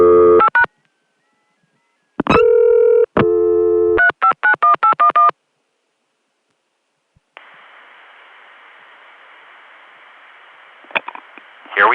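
Recorded telephone line on the ConTelNet CCSA network from 1981: loud bursts of dialing tones and signaling beeps, a pause, then a call cutting through to a steady hissy line with faint clicks at the end.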